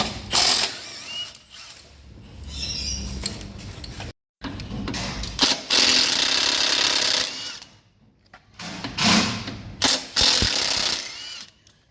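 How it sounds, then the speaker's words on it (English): Ratchet clicking in bursts while removing the factory tie-down points from a pre-facelift 200 Series Toyota Landcruiser during a bull bar fit, loud and close with brief pauses between runs. "I'm just going ahead now and removing the factory tie down points."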